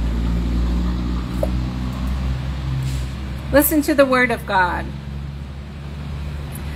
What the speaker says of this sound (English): when the truck goes by